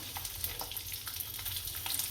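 Garlic cloves frying in hot oil with cumin seeds on a gas stove, a steady close crackling sizzle with small spits throughout, no talking.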